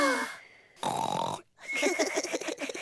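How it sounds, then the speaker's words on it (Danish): A cartoon pig snores loudly while asleep, with a drawn-out wheezing inhale and a rough, grunting snort in two long noisy bursts separated by a short pause, close to the listener. "Jeg snorker faktisk sådan her."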